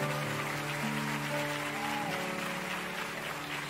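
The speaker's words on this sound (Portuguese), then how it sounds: "Pode aplaudir ao Senhor." A church congregation applauds, a steady wash of clapping sustained evenly from start to finish beneath a held musical tone, with no talking.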